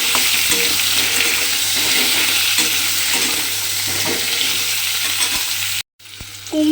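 Diced pumpkin fries in a pan with a loud, steady hiss and occasional soft stirring scrapes. The sound drops out for a moment near the end, then a quieter sizzle and a clink follow.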